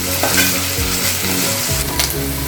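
Onion softening in hot oil in a pan for a coconut milk chicken dish, sizzling loudly and continuously while a spoon scrapes and stirs in quick strokes.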